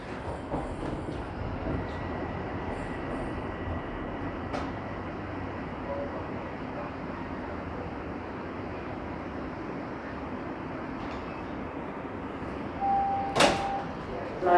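Toronto subway train standing at King Station, a steady low rumble of the car with a brief bright door chime or tone near the end as the doors open, and faint voices in the background.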